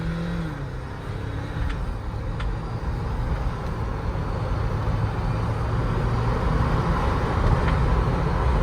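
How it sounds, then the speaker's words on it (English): A Jeep Wrangler 4xe accelerates hard through its gears in manual mode, a loud roaring drone from inside the cabin with road and tire noise building steadily, no voices over it. "I'm going to see if I can demonstrate just going through most of the gears"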